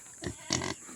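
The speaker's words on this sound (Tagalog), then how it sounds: "baboy kong alaga kong baboy dito" Pet pigs in a family piggery give a few short, close grunts and oinks in quick bursts, fairly faint with brief pauses between.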